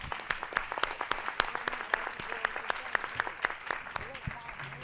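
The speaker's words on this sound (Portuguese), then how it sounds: "Palmas." Steady applause from a room full of people, dense overlapping claps with a few louder sharp ones, continuing throughout with faint voices mixed in.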